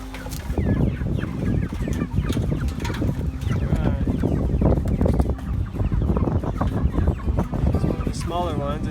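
Cornish Cross meat chickens around two months old, close by during a weigh-in, give off a busy run of clucks, squawks and chirps, with rustling and handling noise throughout and a higher trilling call near the end.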